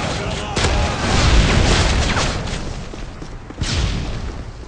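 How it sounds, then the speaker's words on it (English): Explosions tear through a Call of Duty MW3 survival match, with a broadband boom at the start and another blast near the end over a sustained loud rumble of game noise. "Everything exploded here."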